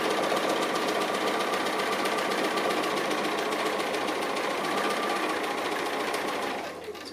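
A sewing machine stitches appliqué in a steady, loud, continuous mechanical whir that runs without a break before easing off at the very end.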